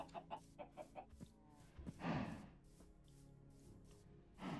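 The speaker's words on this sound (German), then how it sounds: "es sind wirklich sehr viele Hühner hier" Chickens in the Minecraft video game, a run of short clucks in quick rhythmic bursts, then a louder rustling flurry and more clucking, fairly faint with no talk.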